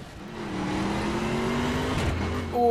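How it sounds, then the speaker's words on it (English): A 2015 Ford Mustang with a supercharger in the racing game The Crew Wild Run accelerates, its engine drone rising steadily with a thin, high supercharger whine climbing above it. "You can hear this supercharger whine straight away."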